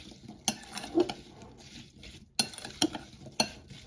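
Apple cake dough being mixed in a bowl, soft irregular scraping and tapping strokes of a utensil against the bowl, quiet and close, with short pauses between clusters of clicks.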